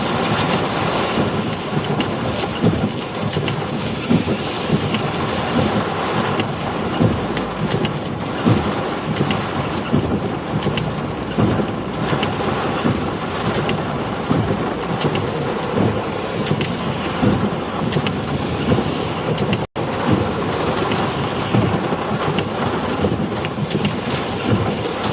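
Storm wind roars in a steady, loud, broadband rush during a Minnesota storm, with continuous buffeting noise and no pauses.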